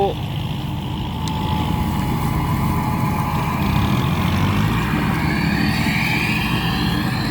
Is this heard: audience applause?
no